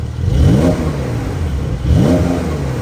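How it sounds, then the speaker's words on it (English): A Porsche 911 Carrera GTS with a semi-automatic gearbox and sports exhaust revs loudly and close by, in two sharp throttle blips that rise and fall, with engine idle rumbling between them and no talk. "Sports exhaust. Ooh. Listen to that."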